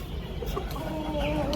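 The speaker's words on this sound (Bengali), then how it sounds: "দেখছেন মুরগি" Chickens cluck softly at a household coop kept alongside pigeons, with a few short calls close by over faint background noise.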